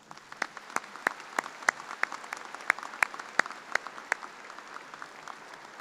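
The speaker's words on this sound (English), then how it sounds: "Please join me in giving our platform party a round of applause" Steady applause from a commencement audience honoring the graduate school platform party, many hands clapping continuously at moderate distance with sharper individual claps standing out, no voices over it.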